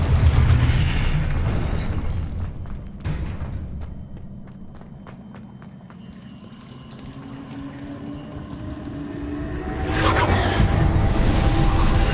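A Confringo fire spell bursts in Hogwarts Legacy with a loud low boom at the start, then a long rumbling tail that fades and swells again into a second burst near the end, with no talk.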